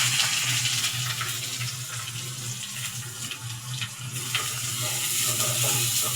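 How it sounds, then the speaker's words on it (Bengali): Chopped onions sizzle in hot mustard oil with torn bay leaves for a chicken and chana dal dish. A steady, hissing fry runs throughout at moderate volume, with no voices. "সরষের তেলে কয়টা তেজপাতা ছিঁড়ে দিয়েছি। এটা একটু গরম হলে এই যে কাটা পেঁয়াজ দিয়ে দিচ্ছি।"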